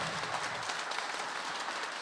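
Applause from an audience at an anniversary celebration of the duo Baba z Chopym, a steady, dense wash of many hands clapping at once with no gaps, heard alone at moderate distance.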